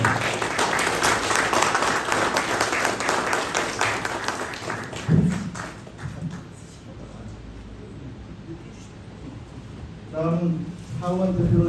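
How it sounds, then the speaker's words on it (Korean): Audience of employees and guests at a company CEO inauguration ceremony applauds loudly and steadily, the clapping fading after several seconds into a quieter room with a voice speaking near the end. "이 자리에 계신 임직원을 비롯한 모든 분들이 큰 박수로 맞이해주시면"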